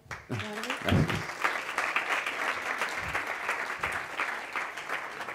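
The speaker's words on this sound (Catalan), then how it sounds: "Molt bé, aplaudiment." An audience at a start-up event breaks into steady applause after a brief spoken word, a dense, even clatter of many hands lasting several seconds.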